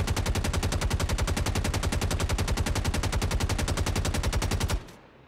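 A P4-AR rifle with a compensator in the Star Citizen game fires a long, loud, unbroken stream of rapid, evenly spaced shots for almost five seconds, then stops abruptly, leaving a faint tail of quiet.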